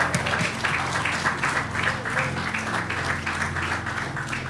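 Church congregation applauding during a Sunday worship service, a dense, steady crowd clapping sustained for several seconds with a voice faintly audible underneath.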